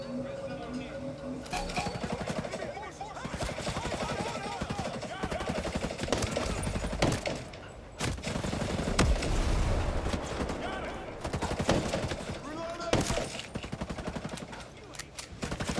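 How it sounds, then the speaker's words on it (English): Rapid, repeated pistol gunfire in a video game, bursts of shots running nearly continuously at moderate loudness with game sounds and a voice talking over parts of it. "Again with the long range pistol."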